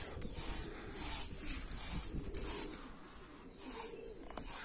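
Marbled domestic pigeons coo in a loft, soft repeated throaty calls rising and falling over a faint rustling background.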